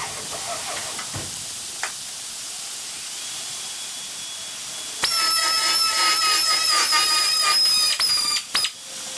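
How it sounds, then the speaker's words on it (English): A die grinder whines at a high steady pitch, tidying a corner of a car's steel beaver panel on an HK Holden Premier. It spins up partway through and runs loud and close after a quieter stretch of hiss and clicks. "get the die grinder, tidy this corner up a bit"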